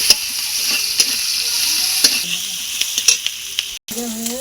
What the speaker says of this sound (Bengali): এবার আমি পেঁয়াজ কুচি দেবো, কাঁচা লঙ্কা দেবো,